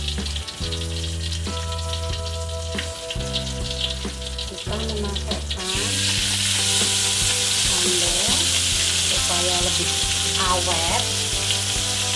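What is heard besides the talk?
ground tomato sambal frying and being stirred in a pan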